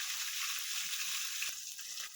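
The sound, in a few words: tilapia fish frying in a pan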